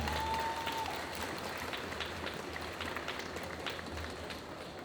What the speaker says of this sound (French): Et on applaudit bien fort s'il vous plaît.